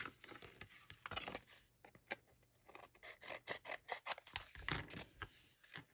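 Scissors trim excess paper from a handmade card panel in a quiet room, with a close, crisp run of short snips and scraping cuts in quick irregular succession.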